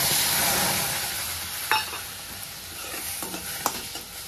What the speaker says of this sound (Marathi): तर मी ह्यात एक अर्धी वाटी दूध ओतून घेते।